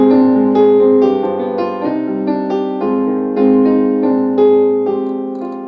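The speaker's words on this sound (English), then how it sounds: "the deceptive cadence is going to a 6 instead of a 1" Sustained chords, likely on piano, move through a deceptive cadence, resolving to the minor six chord instead of the home chord. Steady, loud, evenly paced changes ring out alone, with no talking.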